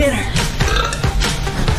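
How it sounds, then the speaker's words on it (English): A woman burps in front of a fan, a few loud, close belching bursts over a steady low whoosh of moving air. "I am burping in front of my fan."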